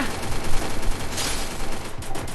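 Dense, continuous gunfire in the Free Fire video game, a rapid overlapping fusillade of shots that stays loud and steady throughout.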